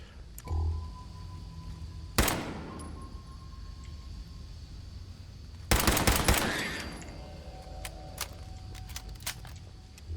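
Gunfire from a .38 in Fallout 4, heard as two separate bursts of shots: a single sharp crack near the two-second mark, then a longer, louder cluster of rapid shots around six seconds, with quieter game ambience between and after.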